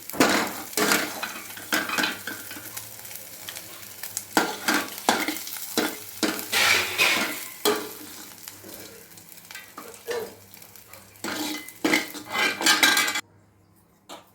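Fried dry prawns are scraped out of a sizzling pan into a bowl, with repeated metal spatula scrapes and clinks against the pan over a steady frying hiss, close and fairly loud, with no one speaking.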